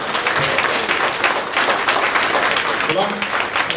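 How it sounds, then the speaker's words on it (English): An audience at a community re-entry program graduation bursts into sustained applause, many hands clapping at once for several seconds, with a voice briefly audible beneath it. "Give yourself a round of applause then."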